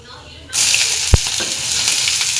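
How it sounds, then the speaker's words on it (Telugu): Chopped cabbage hits a hot pan of tempering with mustard seeds, cumin, fenugreek and dried red chillies, setting off a sudden loud, steady sizzle after a short quiet start, with one brief clink partway through. "ఇప్పుడు కట్ చేసుకున్న క్యాబేజీ వేసుకుందాం"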